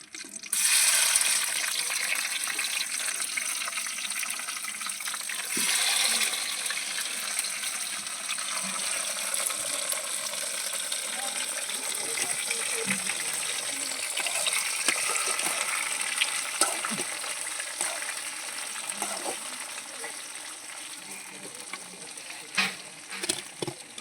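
Water sizzles and bubbles vigorously in a pot of mutton on the stove, a dense, continuous hissing boil with occasional clinks and stirring, close and loud throughout.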